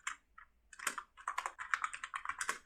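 Kotlin code being typed on a computer keyboard, quick irregular bursts of close key clicks with short pauses between them and no talking.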